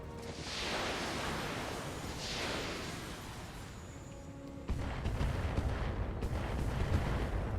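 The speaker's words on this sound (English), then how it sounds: "That's probably area of effect missiles." Area-of-effect missiles fire in the BattleTech game as a dense, roaring barrage of launches and blasts. Two rushing swells come first, then a louder rumbling burst of impacts that carries on to the end.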